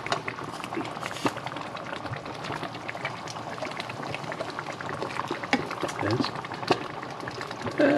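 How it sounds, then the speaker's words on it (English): A pot of chili made with beer bubbles on the stove, a steady soft gurgling simmer with scattered pops, close but fairly quiet, with a voice talking over it. "Bubbling a little bit too high."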